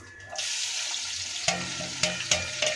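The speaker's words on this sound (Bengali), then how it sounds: "চলো পেঁয়াজটা একটু ভাজা হোক" Chopped onions with bay leaf frying in oil in a wok, a steady close sizzle punctuated by several sharp scraping and stirring knocks in the second half.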